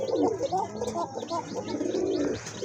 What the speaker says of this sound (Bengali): আপনার দুইটা কবুতরই খুব ভালো ডাকে